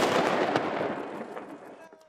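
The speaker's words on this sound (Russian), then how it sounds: "Выстрел из пушки с Нарышкина бастиона Петропавловской крепости дает старт экспедиции." A ceremonial cannon fires from the Naryshkin Bastion of the Peter and Paul Fortress in Saint Petersburg: one loud, near blast followed by a long rumbling echo that slowly fades over about two seconds.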